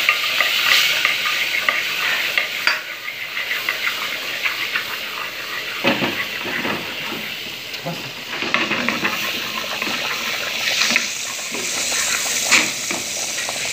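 Margarine sizzles in a very hot pan while being stirred for a white sauce, a steady frying hiss broken by scraping stir strokes, close and continuous, with a bit of quiet talk.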